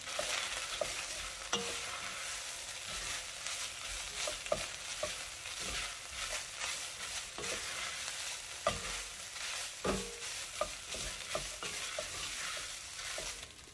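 Ground beef and diced potatoes sautéing in a soup pot, a steady close sizzle broken by repeated scraping stirs of a utensil against the pan, with no voices.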